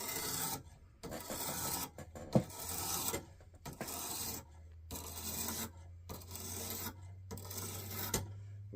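Knife blade stroked repeatedly across a coarse stone in a Wasabi-type sharpener, a close, rhythmic gritty rasp in steady passes with short pauses between strokes, alone with no talk.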